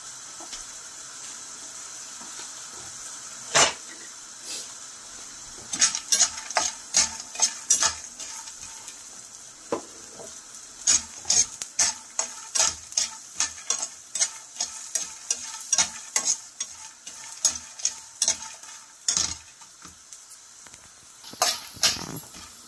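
Lentil dumplings (bori) frying in oil in a pan, with soft crackling under repeated sharp clinks and scrapes of a metal utensil, irregular and close, without talk.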